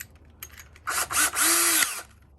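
A power drill enlarges a hole in a kayak hull, winding up in a short, loud whine that holds for about a second before cutting off, close by with light handling noise before it.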